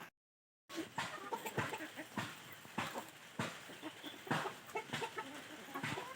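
Chickens in a home yard with a wild rock pigeon among them, giving repeated short clucks and squawks, fairly close, with brief scratchy bursts and no talk.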